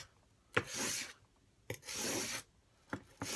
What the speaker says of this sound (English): we want to use that end of the sandpaper and make sure that we're getting the even wire out of it